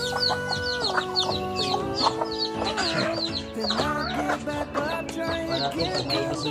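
Several chickens cluck and squawk continuously at close range, a busy overlapping chorus of short calls.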